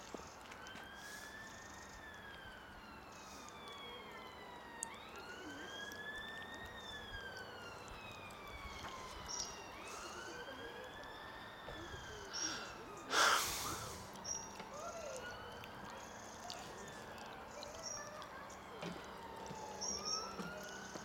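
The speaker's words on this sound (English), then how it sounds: "There's an ambulance coming" An ambulance siren wails along a bypass near a burning Virgin Pendolino train, its repeating rising-and-falling tone fairly distant and faint, with brief voices and background noise around it.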